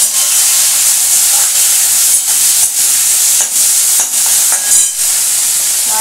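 Prawns fry in hot oil in a wok, making a loud, continuous hissing sizzle with brief dips as they are stirred.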